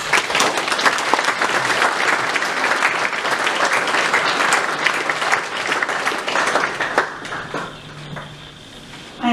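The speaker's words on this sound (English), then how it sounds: "Please join me in applauding them." A church congregation claps together in a sustained wash of applause that thins and fades near the end, leaving a quieter room.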